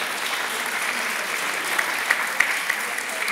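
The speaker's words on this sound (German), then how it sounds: "Das verdient einen Applaus." Audience applause fills a German panel discussion at a state art gallery, a steady dense wash of many hands clapping with a few sharper claps standing out near the end.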